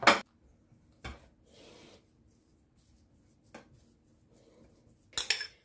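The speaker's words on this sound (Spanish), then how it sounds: "Iremos añadiendo una a una e iremos chafando." Boiled potatoes mashed with a fork in a bowl for a Russian potato salad, heard as a few separate sharp metal-on-crockery clinks and scrapes with quiet pauses between them, no talking.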